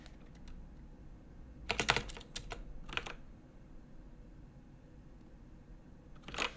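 Code is typed on a computer keyboard in short bursts of quick clicking keystrokes, with clustered taps, brief pauses and a final flurry, close and fairly quiet.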